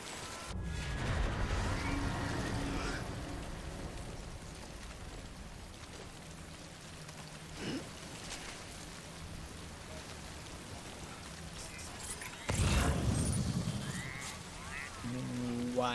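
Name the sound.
rain falling, from a video game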